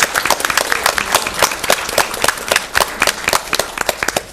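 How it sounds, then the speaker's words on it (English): A school board meeting audience applauds art students, a dense, close burst of many hands clapping in a lively, uneven rhythm that holds steady throughout. "Let's give our students a round of applause for the group."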